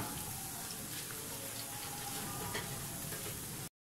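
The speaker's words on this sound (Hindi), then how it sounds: "ये हमने दूसरी तरफ से भी 4 मिनट के लिए इसको फ्राई कर लिया है" Chicken fillets frying in hot oil, a steady dense sizzle and crackle with occasional small pops, close and constant, then cutting off abruptly at the end.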